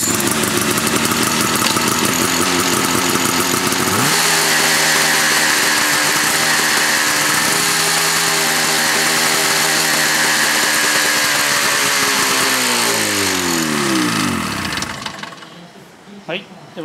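A Shibaura SF651M portable fire pump engine, recoil started, runs loud and close with a buzzing, harmonic drone, rising in pitch partway through, then winds down and stops near the end.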